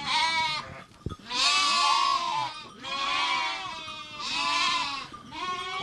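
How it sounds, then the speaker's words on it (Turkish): Sheep and lambs at a village flock in Küçüklü, Korkuteli, bleat loudly and nearly nonstop in long overlapping calls, several animals answering one another close by. "Böyle koyunların yavrularıyla kavuşması, buluşması"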